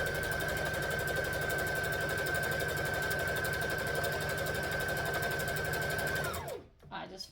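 A sewing machine stitches fabric at a steady fast whirr for several seconds with a constant high whine, then winds down and stops, leaving a few quiet handling noises.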